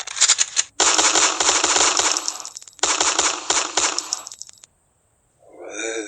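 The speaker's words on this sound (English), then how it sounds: "I'll shoot those nasty squirrels first" Rapid bursts of gunfire aimed at squirrels, two long crackling volleys of repeated shots separated by a brief pause, then a short silence and a fainter trailing sound.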